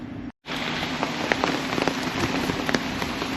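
Steady rain falls outdoors around a 2024 MG ZS 1.5L automatic at a repossessed car sale. It is a continuous broadband hiss with scattered sharper drops ticking on surfaces, fairly loud and close, briefly cut out near the start.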